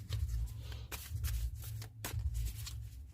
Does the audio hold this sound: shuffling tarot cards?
yes